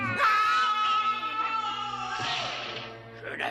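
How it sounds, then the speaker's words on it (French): A cavernous howl in a French-dubbed Smurfs cartoon: a loud, long, wavering wail that holds for a few seconds and then breaks into a second shorter cry at the end. "Je n'avais jamais entendu un hurlement caverneux."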